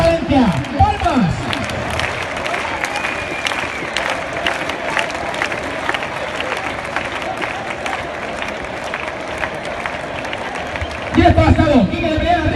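A crowd at a Valencia bull-jumping contest claps rhythmically in steady unison, sharp regular beats repeating throughout, with a voice shouting over the clapping and a louder burst of noise near the end.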